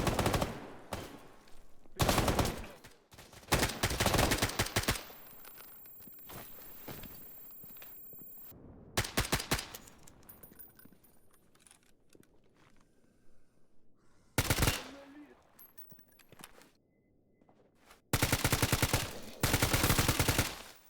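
Rifle fire in the S.T.A.L.K.E.R. GAMMA video game comes as loud bursts of automatic shots separated by quieter stretches, with faint footsteps and game ambience between volleys.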